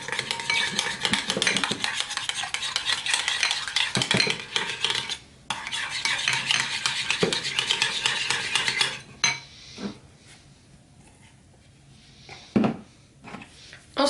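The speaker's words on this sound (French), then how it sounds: "Je remue un petit peu." Stirring a homemade moisturizing hair mask in a bowl with a spoon, a steady close scraping and clinking for about nine seconds, then quieter scattered taps and knocks.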